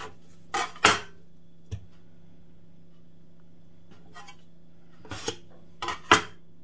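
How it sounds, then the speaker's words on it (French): Bokit bread dough is cut into roughly 100 g pieces on a floured work surface, heard as a few sharp knocks and taps of the blade against the counter, spaced out over quiet moments. "Puis j'y découpe des morceaux d'environ 100 g."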